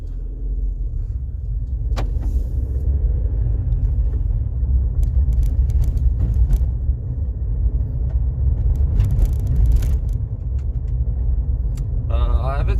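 Small car with 15-inch tires driving on a road, a steady loud low interior rumble with scattered clicks and rattles throughout.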